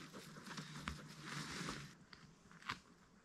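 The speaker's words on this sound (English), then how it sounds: "the dog chewing on a tree" A dog chews on a tree at a quiet woodland wild camp, producing faint intermittent crunching and biting sounds, close by but soft against a still background.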